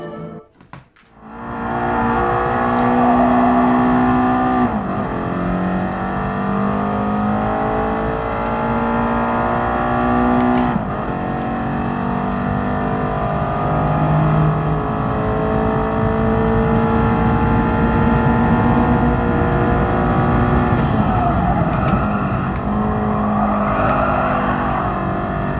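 Racing car engines roar in Gran Turismo Sport, a loud, continuous drone whose pitch climbs and drops repeatedly through gear changes, with brief sharp breaks at shifts and no voices over it.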